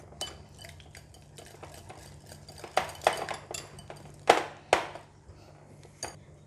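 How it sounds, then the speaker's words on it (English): Spoon scraping and clinking against a bowl while potato salad dressing with extra lemon juice is stirred, with soft irregular taps and two louder scrapes near the middle, no voices. "Another 1 more tablespoon of lemon juice. So we're going to mix it again."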